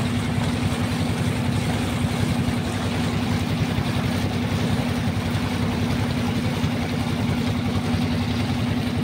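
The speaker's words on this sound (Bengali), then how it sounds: "ঠিক এই মুহূর্তে আরও একটি নৌকা যাচ্ছে আমার সামনে দিয়ে, সেটি একটু দেখুন।" A motorboat passes on the river at Bholaganj in harsh sunshine, its engine a steady, loud, unbroken drone throughout, with water noise beneath it and no talking.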